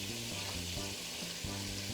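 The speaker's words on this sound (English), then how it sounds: "Let's dump in all of the garlic." Garlic tipped into a hot pan for shrimp scampi sizzles in a loud, steady hiss close by, with no one talking.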